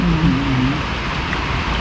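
Rain falls steadily outside a restaurant, a broad even hiss with a faint tonal sound near the start.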